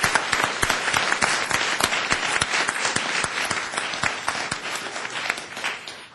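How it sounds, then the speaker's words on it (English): Audience at a law symposium gives a round of applause: dense, steady clapping from many hands, moderately close, continuing throughout and tapering slightly at the end. "Can we please have a round of applause for Katie and Mike?"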